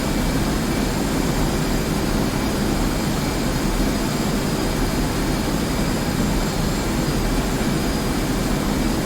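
A jet aircraft departs and climbs in a flight combat game, a loud, constant roaring engine wash with broadband turbine hiss and a low rumble, steady and unbroken from start to finish.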